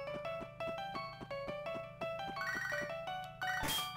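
Cell phone ringtone from a Pokémon HeartGold game session, a bright repeating electronic melody of stepped tones playing continuously and loudly, with a brief burst of noise near the end.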